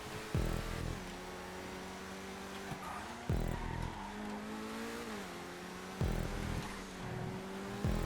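A Stromberg car racing in a GTA5 stunt race, its engine droning loudly and climbing in pitch through repeated gear shifts, each upshift marked by a sharp dip and surge, with occasional tire scrub.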